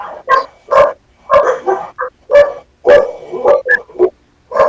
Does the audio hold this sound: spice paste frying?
no